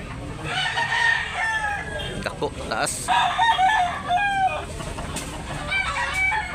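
Roosters offered for sale at a gamefowl market in Tabunok, Talisay, Cebu crow repeatedly, loud drawn-out calls overlapping among other birds, with people chatting nearby.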